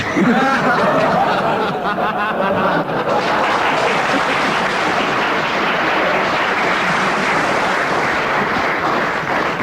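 A studio audience at a BBC radio comedy panel show applauds steadily and loudly for about ten seconds, a dense continuous clatter of clapping mixed with a few chuckles, with no talk over it.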